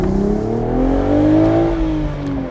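A 2025 BMW Z4 with a manual gearbox accelerates hard out of a corner, its engine note loud and close, climbing steadily in pitch as it revs.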